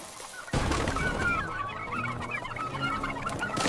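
A flock of farm chickens cluck busily and close by after a sudden start, keeping up a dense, overlapping chatter of short calls throughout.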